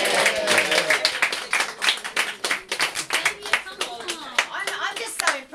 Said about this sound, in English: Well, how about a big round of applause for Lee for organising?